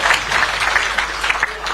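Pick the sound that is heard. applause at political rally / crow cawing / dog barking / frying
applause at political rally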